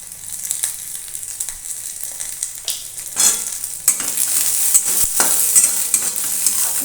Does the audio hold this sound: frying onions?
yes